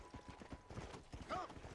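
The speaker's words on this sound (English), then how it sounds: "I'm hoping when I call a horse, it's gonna be Pestilence." Horse hooves clip-clop in a steady rhythm in Red Dead Redemption: Undead Nightmare, close and distinct, with a brief whinny-like tonal sound near the end.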